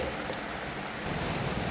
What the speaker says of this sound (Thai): ฝนกำลังตกเข้าสวนผักข้างบ้านเลยครับ